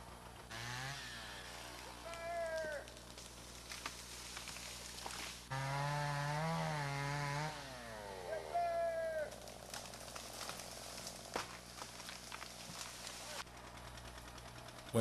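A chainsaw felling jack pine trees in the woods, its engine revving up and down in repeated bursts that rise and fall in pitch, moderately close, with some voices in between.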